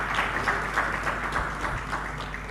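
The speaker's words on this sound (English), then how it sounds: "she deserves to really be applauded" Steady applause from an audience at a talk on elections and governance, clapping for the speaker's wife; a dense, even wash of many hands held for a couple of seconds.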